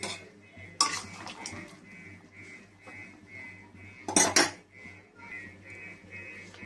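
A lid clinks twice onto a metal pot of boiling jackfruit with turmeric in a kitchen, two sharp metallic knocks a few seconds apart over a steady low hiss of heat.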